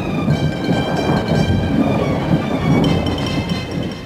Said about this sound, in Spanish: Está bárbara esta tormenta.